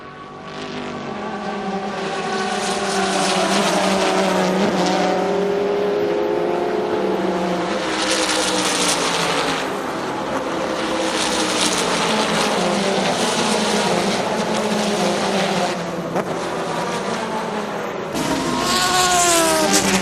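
Porsche race cars competing in the American Le Mans Series roar past in a continuous loud drone, engine pitch sweeping up and down as they accelerate and shift, with a commentator talking over them.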